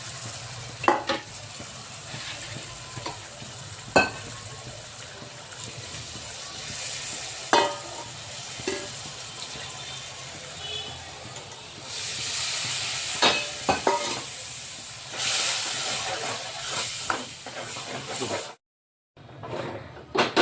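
Tempering spices for spinach dal sizzle in hot oil with a steady crackling hiss, punctuated by occasional sharp clinks of a spoon against the pan, rising briefly louder near the end.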